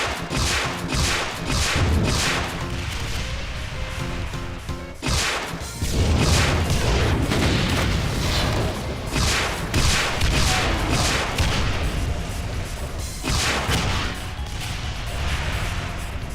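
Rocket launcher shots and explosions in Doom 2 during a fight with an Arachnotron, a loud, dense run of repeated blasts and crashes with a few brief gaps over about sixteen seconds.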